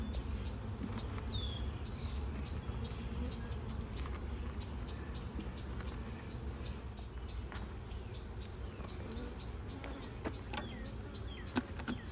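Honeybees drone steadily around an opened hive during an inspection, a constant close, moderately loud hum filling the whole stretch, with occasional faint clicks and knocks of handling.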